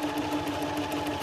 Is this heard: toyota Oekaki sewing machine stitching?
yes